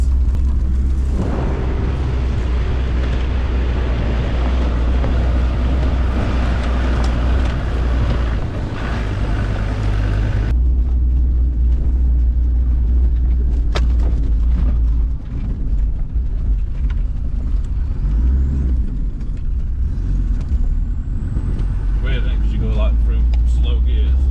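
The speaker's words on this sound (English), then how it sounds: "You can do 15 miles an hour in fifth gear in low range." A Land Rover Discovery TD5 diesel rumbles steadily off road in low range, a loud continuous engine drone with wind buffeting the microphone, while people talk over it throughout.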